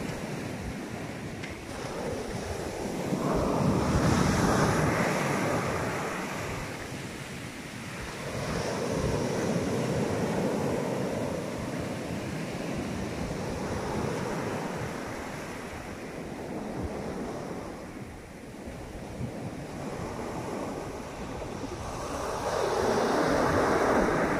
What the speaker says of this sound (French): Voilà la plage le matin.